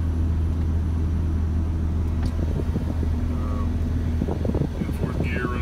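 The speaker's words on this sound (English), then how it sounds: "In fourth gear, running 1600 RPM, 40 mile an hour." A truck engine drones low and steady while towing a trailer uphill in fourth gear at about 1600 RPM and 40 mph, heard from inside the cab with wind noise and someone talking over it.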